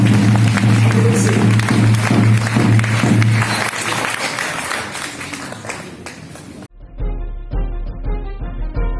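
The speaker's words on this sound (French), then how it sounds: "Applaudissez encore, s'il vous plaît." A conference hall audience applauding, dense sustained clapping from many hands that carries for several seconds, loud and close, before breaking off into quieter scattered sounds.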